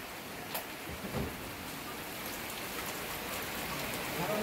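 Steady rain falling and pattering on surfaces at a market in Konkan, a continuous soft hiss with a few louder drips, fairly distant.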